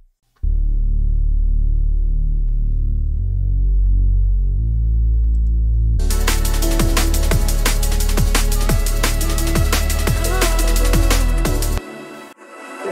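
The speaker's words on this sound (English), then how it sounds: "your nice kind of rolling, greasy liquid bass" A deep, distorted, greasy liquid drum and bass line throbs in a rolling, repeating pattern, joined midway by crisp drums and bright layered synths before cutting out near the end.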